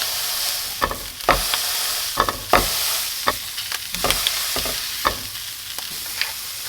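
A slab of burger meat fries in a hot pan, giving a steady crackling sizzle broken by sharp scraping and pressing knocks of a utensil at irregular intervals, loud and close with no talking.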